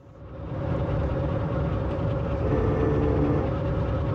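A video game steam locomotive spinning its wheels: a heavy engine roars steadily with a dense low rumble and grinding mechanical texture, loud and continuous throughout.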